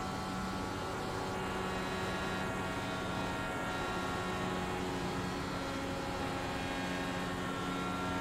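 An IndyCar engine running a new engine map in the iRacing video game, heard as a steady, droning engine tone with sustained harmonics at constant loudness for the whole stretch and no talk.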